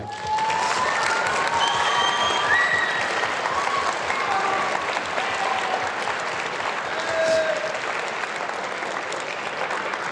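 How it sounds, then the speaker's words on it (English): A standing audience at an Asian Heritage Month event gives long, steady applause with a few faint cheers and whistles mixed in, lasting around ten seconds. "Let's all stand up and give them a big round of applause."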